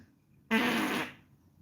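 A person imitates a fart with the mouth into a microphone: one short, close buzzing burst of about half a second, then quiet.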